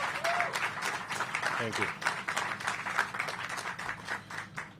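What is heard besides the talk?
round of applause for the Mayor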